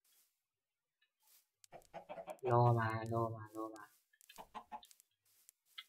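Chickens in Minecraft give a few scattered clucks, quiet and close, around a louder burst in the middle, with brief speech mixed in.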